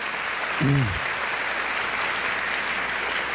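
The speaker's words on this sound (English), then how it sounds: "Let's give one more round of applause to everyone who came up here." An audience at a convocation gives a sustained round of steady applause, with a brief vocal sound rising out of the clapping early on.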